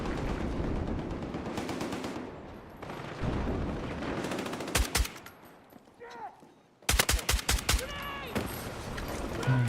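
SVDM rifle gunfire in a first-person shooter video game, with loud sharp shots in clustered bursts and single cracks separated by brief pauses and reload gaps.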